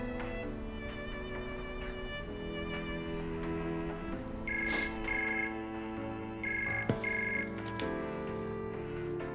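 A telephone rings in two short electronic bursts over a sustained musical background, fairly loud and close, with no talk during the rings.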